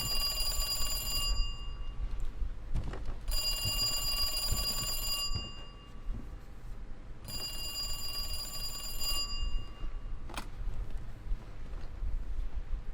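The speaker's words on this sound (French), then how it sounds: "Oh, un coup de téléphone." A telephone rings inside the video game Resident Evil 2, shrill electronic trills in three long bursts separated by brief pauses, loud and near over a low rumbling game ambience.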